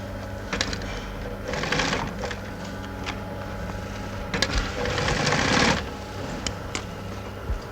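A sewing machine runs in bursts in a busy works sewing room among women dressmakers, its rapid stitching rattle rising and falling over a constant mechanical hum, close and moderately loud.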